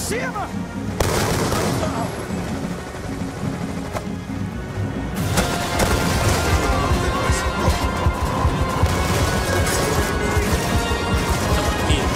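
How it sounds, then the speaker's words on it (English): A flashbang goes off in the video game Call of Duty Black Ops 2 amid dense, continuous gunfire and crashing combat noise. A sharp burst near the start is followed by a louder, sustained chaotic stretch from about five seconds on. "My own flashbang killed me."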